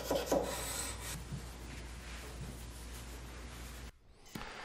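A forged fighter knife blade is hand sanded up to 400 grit, giving a faint, steady rasping rub that pauses briefly near the end, with no talking.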